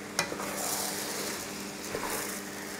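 Buckwheat being stirred into minced meat and mushrooms in a frying pan, a steady soft sizzle with scraping stir sounds and a light clink near the start.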